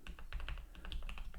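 Typing on a computer keyboard, a quick, close run of light key clicks and taps in an irregular rhythm, with no talk.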